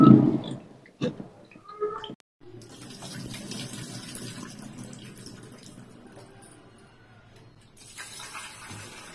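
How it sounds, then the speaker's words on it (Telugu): Rice is rinsed under running tap water in a home kitchen: a few short splashes and knocks at first, then a steady stream of water flowing for several seconds. "ఇవి మనం ఇలా కడిగేసుకొని ఎండలో ఆరేసుకుంటే బాగుంటుంది"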